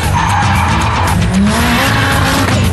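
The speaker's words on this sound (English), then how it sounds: "dynamic drifting. awesome handbrake turns" Car drifting through handbrake turns: loud, close tyre squeal and skidding over a roaring engine, continuous for a few seconds.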